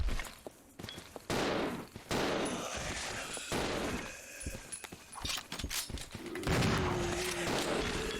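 Gunshots in Resident Evil Zero fire as a series of sharp, irregular reports against a busy background of game sounds. Some shots come in quick pairs, at moderate loudness.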